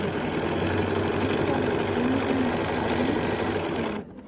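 Bernina sewing machine with a 10D foot top stitching binding onto a quilt, humming in a continuous close, loud run before stopping abruptly.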